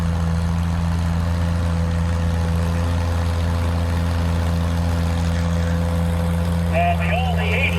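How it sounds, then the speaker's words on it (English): An antique Oliver six-cylinder tractor engine runs at a steady low drone, close and continuous, with a faint higher whine entering near the end. "we love the sound of that 6-cylinder"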